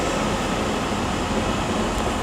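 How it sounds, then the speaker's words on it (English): A TransPennine Express Class 185 diesel multiple unit pulls into Liverpool Lime Street at the end of a run from Cleethorpes, giving a steady, loud, broadband rumble with no voices. "we also have 185143 and 112 coming in here with a terminating Transpennine Express service from Cleethorpes"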